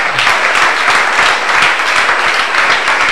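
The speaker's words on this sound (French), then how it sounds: "Je peux applaudir mieux que ça." A church congregation in a live Sunday service breaks into dense, loud applause, a steady wash of many hands clapping throughout.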